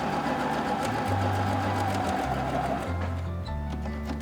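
An Empisal sewing machine runs steadily while top stitching close to a seam with a presser foot, its motor hum shifting pitch in a few stepped runs and slowing near the end, loud and close with no talk.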